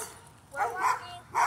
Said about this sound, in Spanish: y los perros estos están brincando casi queriéndose salir